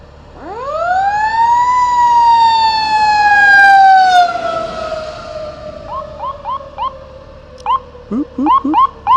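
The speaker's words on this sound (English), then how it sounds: "Got more lights and sirens." An emergency vehicle siren is loud and close, rising into a long sustained wail that slowly falls, then switches to quick repeated yelping whoops near the end, with no talking.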